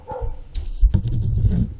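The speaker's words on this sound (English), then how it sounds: "Now you can hear someone's dog barking in the background." Someone's dog barking in the background, a few muffled, low barks and yips at moderate distance, with no voices over them.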